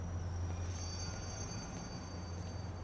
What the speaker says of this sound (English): this is the last train